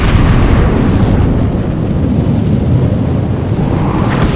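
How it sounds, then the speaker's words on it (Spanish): Asteroid impact explosion shock wave: a continuous, heavy, deep roaring rumble that stays loud and dense throughout, like a sustained blast wave rolling over with no voices. "Es la onda expansiva."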